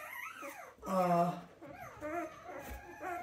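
Newborn puppies on day three in a whelping box give high whimpering yips and squeals, close and fairly loud, with a person talking over them.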